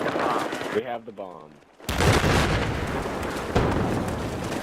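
A Battlefield 4 match in Obliteration mode, with bursts of gunfire and booming explosions loud and close. A player talks over the opening before the battle noise takes over.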